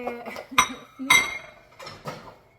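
Dishes and cutlery clink and clatter close by as a dishwasher is emptied, with several sharp ringing knocks of plates and utensils set down at irregular intervals.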